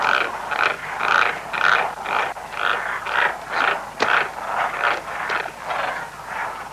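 Frogs croak in a steady chorus of about a dozen evenly spaced, pulsing calls, loud and fairly close, with no voices over them.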